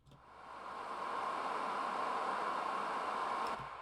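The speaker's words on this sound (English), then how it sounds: "field recording or Foley recording of a fan that was in my living room" An old living room fan runs steadily, a broad airy whoosh with a faint hum that swells in over the first second and holds constant, close and alone.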